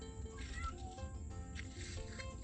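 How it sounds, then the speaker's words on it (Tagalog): Faint cat meows, a few drawn-out cries over a steady low background rumble, with no one talking. "Mga pusa."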